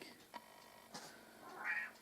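A deaf male cat meows, calling out a couple of short, fairly faint cries over a quiet room background.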